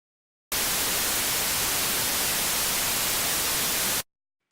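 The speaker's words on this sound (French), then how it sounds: "on appelle ça un bruit blanc, c'est-à-dire que c'est quasiment toutes les fréquences qui jouent en même temps" Steady white noise from a synthesizer oscillator in Logic Pro X starts abruptly, holds a constant loud hiss across the whole range for three and a half seconds, then cuts off cleanly.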